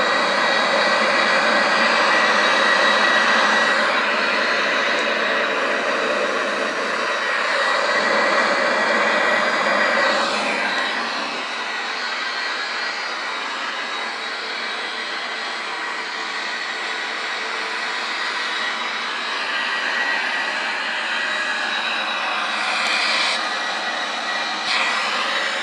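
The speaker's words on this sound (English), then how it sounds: "Boeing 737" Boeing 737-800 jet engines in Microsoft Flight Simulator X, a continuous loud broadband roar with a steady whine, heavier for the first ten seconds and then settling to a slightly softer, even drone.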